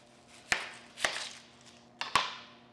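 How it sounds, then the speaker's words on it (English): A knife chops through an onion on a cutting board in three sharp, separate strikes, the last two close together, each thud ringing briefly against a faint steady hum. "You cut the onion"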